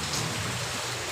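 Steady rain falls outdoors in a place without electricity, a continuous, even wash of drops with no talk over it.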